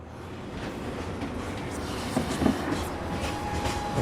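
A train in Final Fantasy VII rumbles along steadily with a continuous rolling roar and faint rhythmic clatter, loud and close, with no talking.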